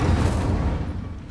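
Incendio fire spell cast in Hogwarts Legacy, a short, loud low burst of flame that rumbles briefly and fades within about a second, heard alone.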